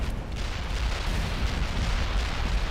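Artillery barrage in World in Conflict, heard as a dense, continuous rumble of overlapping explosions and deep booms that rolls on without a break.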